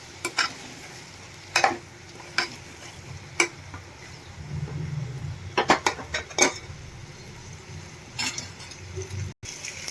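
Diced potatoes stirred and frying in a pan for a Gujarati dry potato dish, with soft sizzling underneath and sharp intermittent scrapes and clinks of a spoon against the pan.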